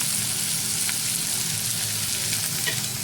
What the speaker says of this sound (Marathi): आता आपण कॅप्सिकम टाकूया आता कॅबेज टाकूया याच्यामध्ये